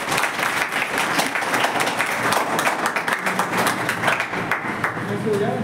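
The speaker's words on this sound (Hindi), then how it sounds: "तालियां बजाओ एक बार सर के लिए" Audience clapping to welcome a teacher at a coaching-class event, a steady dense spread of claps throughout, with voices mixed in beneath.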